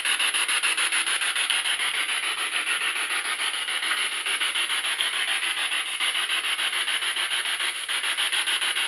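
A spirit box radio sweeping through stations in reverse produces a continuous, fast-pulsing hiss of static, loud and steady throughout with a bright, rasping texture and no voices.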